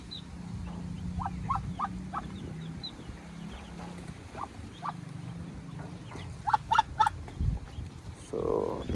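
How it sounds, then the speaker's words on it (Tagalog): Ducks and newly hatched ducklings on a duck farm, with scattered short quacks and peeps over a low background hum, some calls clustered in quick bursts. "So ayan na yung ating mga pato."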